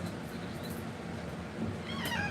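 A female cat, held during a lion-cut grooming session, gives a faint, drawn-out meow near the end over a steady background hiss.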